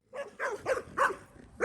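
Reactive dog barking in a run of five sharp, fairly loud barks with short gaps, heard close during a mantrailing track as it meets another dog.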